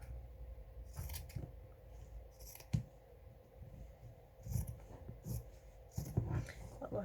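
Scissors snip through patterned calico-like fabric for a fabric mushroom craft, giving a few separate crisp cuts spaced through a quiet room, fairly faint and close with no talking.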